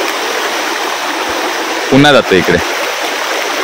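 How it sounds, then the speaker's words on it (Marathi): A river at Govil in Lanja, Ratnagiri, swollen with floodwater after heavy rain, rushes with a loud, constant roar while a voice briefly speaks over it. "हा पूर आहे"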